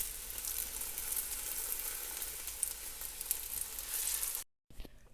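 Continuous crackling sizzle of sardine rolls frying in hot oil, close and steady, cutting out briefly near the end before a few softer crackles.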